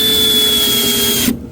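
A power drill runs steadily at high speed driving screws into custom cabinets, a loud continuous whine with a faint tonal hum, cutting off abruptly near the end.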